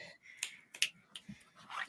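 A few finger snaps, sharp and separate, spread unevenly across a short span. They come quietly from close by with faint whispery noise between them.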